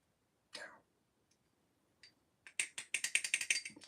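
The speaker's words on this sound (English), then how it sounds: "I'm just tightening up some of these nuts and bolts." Small tool working the nuts and bolts of a balisong knife: a few soft isolated clicks, then a fast close run of crisp ratcheting clicks, quiet and with no talk.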